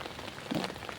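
Rain falls in a backyard garden in Ilocos Norte as a soft, even patter close by, with one slightly louder splash partway through.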